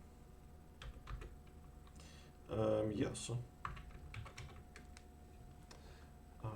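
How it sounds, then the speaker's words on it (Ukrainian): Someone types a password on a computer keyboard, scattered quick key clicks with a denser burst of typing in the middle, quiet and close, while a person speaks a word. "перекладаємо просто англійську нашу клавіатуру і прописуємо так само"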